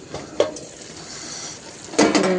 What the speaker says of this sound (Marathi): आता आपण झाकण काढून बघूया भाजीवरचं